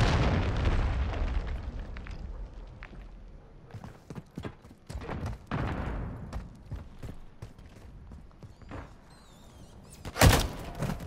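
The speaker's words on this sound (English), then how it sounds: "Hostile cruise missile incoming." A cruise missile explodes in a multiplayer shooter game, a deep booming blast that fades out slowly, followed by scattered thuds, pops and smaller bursts and a sharp loud burst near the end.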